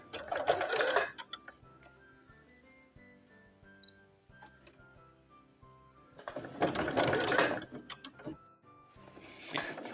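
Sewing machine running zigzag stitches around a Christmas coaster, loud whirring bursts at the start and end with quieter ticking mechanical sounds and pauses in between.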